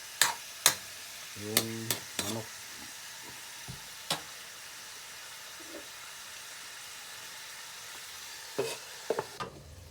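Chicken pieces for tinola are stirred in a hot pan, giving scattered scraping and clacking strokes over a faint, steady sizzle, with a few louder knocks near the start and end.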